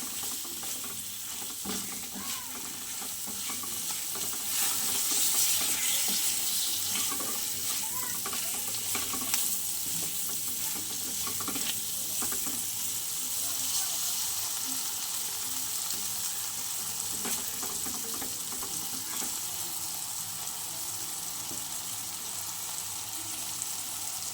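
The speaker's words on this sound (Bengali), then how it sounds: "এবার আমি সুন্দর করে ভেজে নেব।" Cumin and chili powder frying in oil for a rohu fish and eggplant curry with potatoes, a continuous close sizzle with occasional stirring scrapes running steadily throughout.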